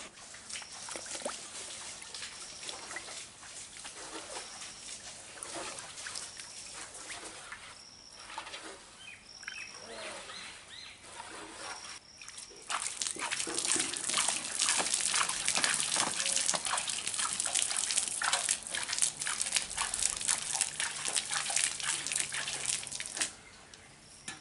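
Water gushes and sloshes while cow dung is mixed into it by hand, growing louder and more vigorous partway through, with birds faintly audible in the background.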